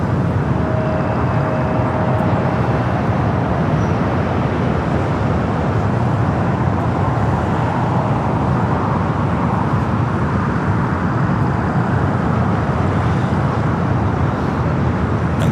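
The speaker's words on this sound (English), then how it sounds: "we have another Qantas Dreamliner next up for arrival on the north side" A Qantas 787-9 Dreamliner arriving at LAX, its broad steady jet roar filling the air at constant loudness, with distant airport and road traffic blended beneath.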